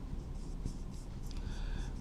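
Chalk or marker writing on a board during a chemistry class on cobalt complexes, a soft scratchy scraping with short strokes that starts and stops, close and fairly quiet, with no talk.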